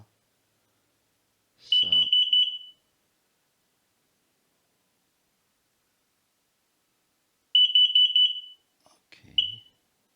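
An X-Sense SC01 smoke and carbon monoxide alarm gives two loud, shrill bursts of rapid beeping several seconds apart, with near silence between them and a brief spoken word.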